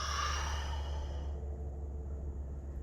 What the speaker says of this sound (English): Take a nice breath in, breath out.